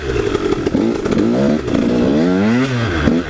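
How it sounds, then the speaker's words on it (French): Yamaha 150 SX motorcycle ridden at a gentle pace, its engine droning steadily up close with rising and falling revs and some rattling clatter. "je roule relativement doucement avec la moto"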